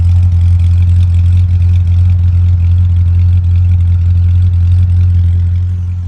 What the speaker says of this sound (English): Wonderful sounding exhaust.